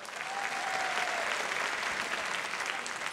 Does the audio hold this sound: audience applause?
yes